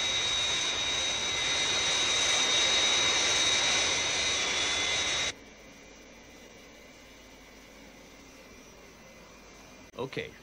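Thunderbirds puppet-series jet aircraft Fireflash taking off for Tokyo: a loud, steady high-pitched jet roar holds for about five seconds, then cuts to a quiet cabin hum with a brief voice near the end.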